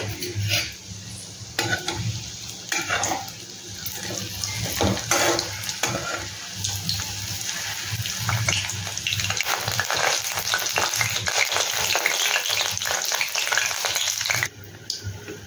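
Paneer pieces sizzle and crackle steadily in hot oil, with scraping and clinks as a metal spatula turns them, close and continuous without any talk.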